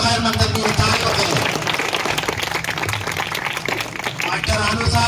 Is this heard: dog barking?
no